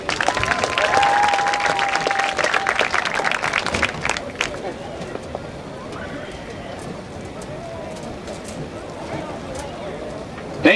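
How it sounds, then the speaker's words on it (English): Sustained crowd applause fills a stadium at a high school football game between Ray-Pec and Blue Springs, honoring the band seniors; the clapping is dense and steady at first, then eases to a lower, continuous patter. "Give them a round of applause, ladies and gentlemen."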